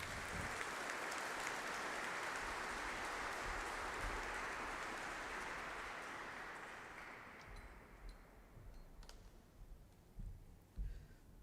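An audience at a farewell and recognition ceremony for a Peruvian Supreme Court judge claps loudly in a dense, sustained round that fades after about seven seconds, leaving a few scattered claps and small noises.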